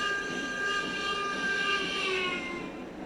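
A steam locomotive in Railroads Online sounds a sustained, steady whistle over the low rolling rumble of the train, fairly loud and alone with no talk.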